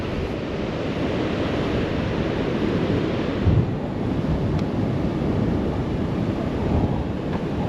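Waves wash onto a small beach at Bremer Bay in a continuous rumbling surf, with wind buffeting the microphone and no voices.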